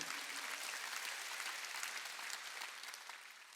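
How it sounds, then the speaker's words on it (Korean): A church congregation at a Sunday worship service claps together in a sustained burst of applause that fills the room and tapers off slightly toward the end. "박수."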